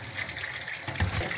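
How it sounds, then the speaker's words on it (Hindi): Cold tap water runs over freshly boiled macaroni in a home kitchen, a steady close pour and splatter lasting the whole moment with no talking. "हम ठंडा पानी खोल देंगे।"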